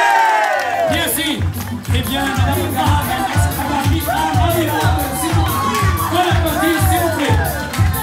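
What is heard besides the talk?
audience applauding and cheering a contestant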